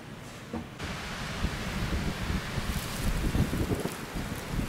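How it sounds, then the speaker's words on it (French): Strong wind buffeting the microphone in a continuous rough roar on a hill during a storm, gusting louder at times, with no voices. "Pas mal de vent aujourd'hui."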